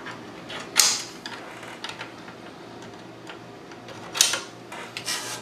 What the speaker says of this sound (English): We can slide the side panels back on.